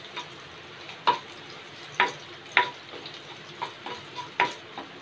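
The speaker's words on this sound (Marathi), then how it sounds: "परतून घेऊया थोडासा।" Green chillies and fenugreek leaves sautéing in hot oil give a soft, steady sizzle with several sharp spatula clicks and taps against the pan, close by, with no talking.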